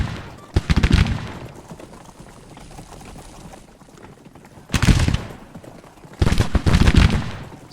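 Musket volleys from skirmishers in the Civil War strategy game Grand Tactician, coming as three loud crackling bursts of rattling gunfire separated by quieter stretches of distant battle noise.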